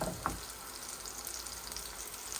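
Chicken and capsicum fry in a pan with a loud, steady hiss close up, one brief stir or clink near the start of the short stretch.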